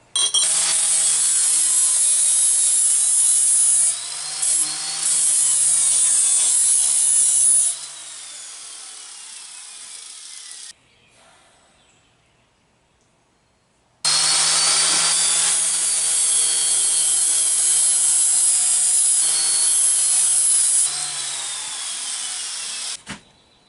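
Harsh, continuous grinding as edges are taken off a sword made from scrap metal, two long loud bursts separated by a brief quiet pause.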